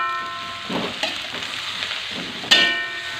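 Oyster mushrooms stir-fried with softened, yellowing shallots in a pan: a steady close sizzle with a few scraping stir strokes and a sharper clatter near the end, no talk.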